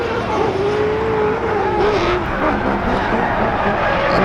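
A drift car at Hampton Downs roars loudly and continuously, its engine note wavering as the tyres skid and squeal through a long slide, with no voices over it.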